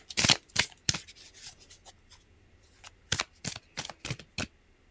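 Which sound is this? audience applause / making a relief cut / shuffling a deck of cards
shuffling a deck of cards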